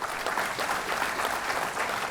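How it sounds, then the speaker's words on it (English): An audience at an institute's foundation day ceremony claps for alumni award recipients, a fairly quiet but continuous patter of hands that stays steady from start to end. "We need a bigger applause."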